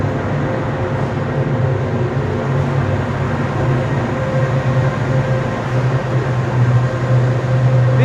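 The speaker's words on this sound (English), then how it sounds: "the output from the pug mill blender then drops into this feed screw, which then feeds the ash into the dryer system" Industrial ash processing plant with a pug mill blender feeding a screw conveyor into a dryer system, a steady loud mechanical drone and hum that continues without a break, with no speech.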